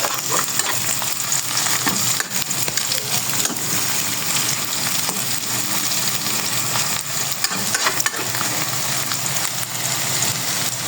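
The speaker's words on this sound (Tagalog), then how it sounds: "golden brown na yung ating bawang, sunod agad natin yung sibuyas" Garlic and onion fry in a hot pan for a Filipino-style fried rice, giving a steady, loud, unbroken sizzle with occasional stirring scrapes and no talking.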